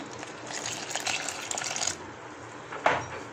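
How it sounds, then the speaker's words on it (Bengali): Water is poured a little at a time into flour with a pinch of salt in a bowl while mixing paratha dough, giving a steady close trickle for about two seconds, then a brief louder splash. "অল্প অল্প করে পানি দিতে হবে, একসাথে দেওয়া যাবে না।"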